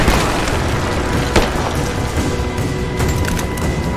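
Gunfire and explosions in the Rise of the Tomb Raider video game: a dense, continuous roar of booming blasts with sharper bursts near 1.4 and 3 seconds, loud and close throughout with no clear talk.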